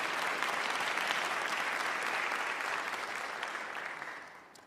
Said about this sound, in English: I'd like to give a round of applause for Rise Up Industries because it was really a beautiful thing